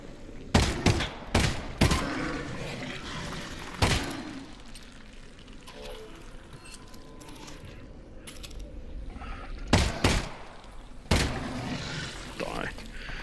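Gunfire in the VR game Half-Life: Alyx: a quick volley of sharp shots, a lone shot a few seconds later, then another short cluster, set against low ambient game noise.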